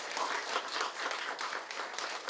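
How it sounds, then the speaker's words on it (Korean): At a National Assembly Library policy colloquium in Korea, an audience applauds as visiting lawmakers are introduced. The clapping is soft and fairly distant, with a steady, moderately dense patter and no talking over it. "박수 부탁드립니다."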